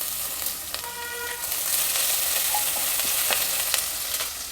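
Chana dal fries in oil with crushed ginger and garlic for tomato bele bath, making a soft, hissy sizzle with a few light utensil taps and scrapes, close and steady, with no voices.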